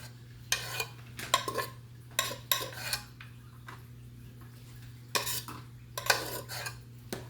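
Metal utensils scraping and clinking against a pot or dish while scooping brown rice out, several bursts of scraping with short pauses between them over a steady low hum, close by and with no voices.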